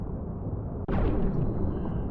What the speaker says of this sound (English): The explosion was far too big.